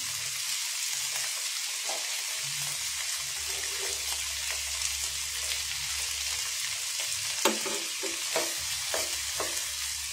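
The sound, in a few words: dried fish and tomato frying in pan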